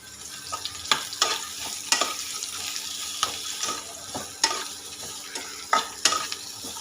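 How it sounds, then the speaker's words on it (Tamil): Bitter gourd is stirred and sautéed in a pan, a close sizzle broken by frequent spatula scrapes and knocks in an uneven rhythm, no talking. "இந்த பாவக்காய் வந்து நல்லா இந்த பச்சை வாசனை போகிற வரையிலும் வதக்கிக்கலாம்."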